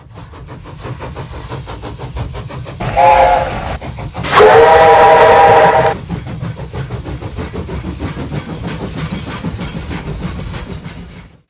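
A steam train chugs steadily along the rails, sounding two whistle blasts, a short one and then a longer, louder one, before rolling on.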